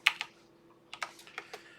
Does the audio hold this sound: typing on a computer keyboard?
yes